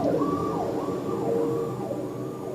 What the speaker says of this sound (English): that is our new fire truck that makes a lot of noise